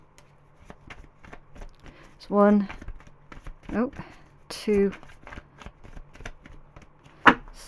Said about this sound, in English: we're going to do 3 shuffles on this deck